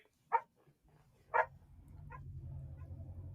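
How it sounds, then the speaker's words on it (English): A household dog barks twice, close and fairly loud with a pause between, then a softer yip follows as a low rumbling background noise rises. "That's my dog barking."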